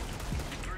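Gunfire in the video game CS:GO sounds as a brief burst of shots, loud and dense, heard with no clear talk over it.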